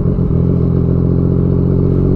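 A Yamaha MT-09 motorcycle engine runs loud and close with a rough, throbbing mid-range growl, holding a steady idle-like rumble over a short span with some mechanical clatter.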